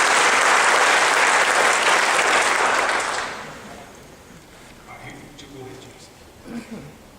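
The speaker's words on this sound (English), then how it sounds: "Let's give a good round of applause." An audience at a graduation service bursts into loud, dense applause lasting about three seconds. It fades quickly into quieter room noise, and a voice then begins speaking.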